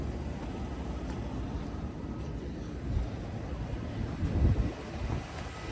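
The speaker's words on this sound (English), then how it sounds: "We got a blower." Blower of a Trane HVAC unit running as a steady, broad rushing drone that holds evenly throughout, with a couple of slight swells and no talking.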